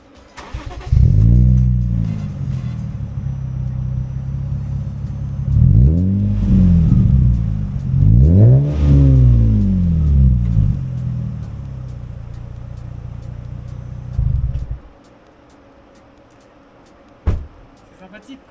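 Close by, a car engine cranks and catches, then revs up and settles back down in several rising and falling bursts before shutting off, followed by a single sharp knock a couple of seconds later.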